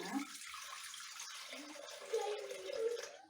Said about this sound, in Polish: Do naczynia miksującego wlać 300 g wody